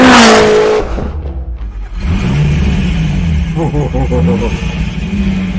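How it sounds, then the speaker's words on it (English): A loud SSC Tuatara hypercar engine roars and revs hard, then settles into a rising, accelerating drone inside the car while people talk over it. "I'm in the car, I'm in the Tuatara with Jared Shelby."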